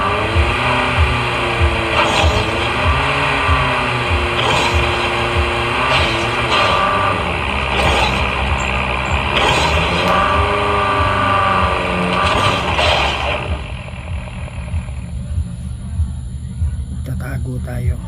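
Car engine in Call of Duty Mobile, a steady revving drone with shifting pitch and occasional tire squeal through most of the clip, dropping off near the end, with someone talking over it.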